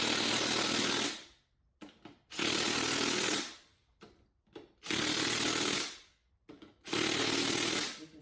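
A power tool drives a socket onto the beadlock ring bolts of a UTV wheel in four loud, close bursts of whirring about a second each, separated by short pauses with faint clicks.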